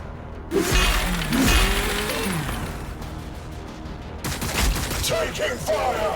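Gunfire in Warhammer 40,000 Battlesector: dense, sustained volleys of shots and impacts with crashing, shattering hits, loud throughout, briefly dropping before another burst, with a voice calling out over the battle.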